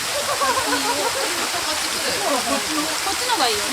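Waterfall in a Japanese nature farm setting at New Year, a steady broadband rush of falling water heard up close throughout, with people chatting over it.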